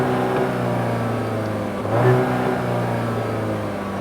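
A 2015 VW Jetta's 1.8L turbocharged engine revs with a low, steady growl, swelling briefly in the middle before settling back, heard clearly with no talking over it.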